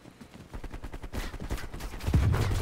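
Gunfire in Call of Duty Prop Hunt: a fast burst of rapid shots near the listener, growing louder toward the end with heavy low rumble and no talking.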